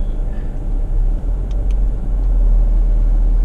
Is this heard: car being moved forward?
yes